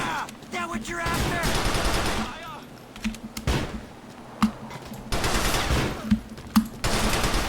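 Bursts of gunfire from GTA: The Lost and Damned, with rapid machine-gun rattles and sharp single shots repeating across the clip against a busy game soundscape.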